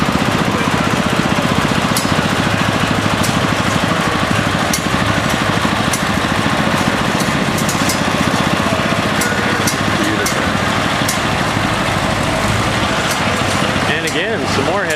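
A Farmall 560 diesel tractor with front wheel assist, at a Red Power tractor show, runs with a loud, steady, rattling chug throughout, while someone talks over it.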